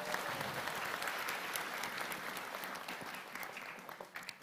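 An audience at an evening gathering honoring immigration officials claps in a dense, sustained burst of applause that slowly thins toward the end, with no voices over it.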